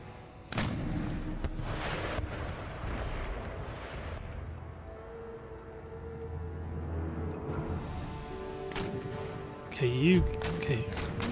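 Artillery and howitzer fire in the battle game Empire: Total War, a series of heavy booms and rumbling blasts with gunfire cracks and a sharp burst near the end, mixed with battlefield noise and a voice talking.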